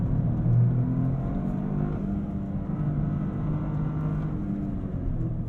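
A 2023 Toyota GR Corolla Core on the move gives a steady, low engine drone and road rumble heard from inside the cabin, rising slightly at times, with no talking.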